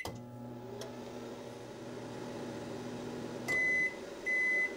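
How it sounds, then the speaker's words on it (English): Full-size microwave oven powered by a 100-amp-hour lithium iron phosphate battery through an inverter, a steady hum and drone, then two loud, sustained electronic beeps near the end. "It did run the microwave."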